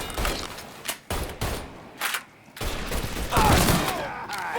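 Rapid bursts of gunfire in the Mafia III video game, several volleys of shots cracking loudly one after another amid shouting combat voices, with brief pauses between bursts.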